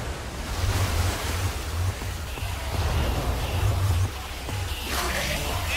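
Water gushes out of a device in Minecraft Story Mode, a loud, steady rushing roar with a low churning surge that pulses, continuing without talk.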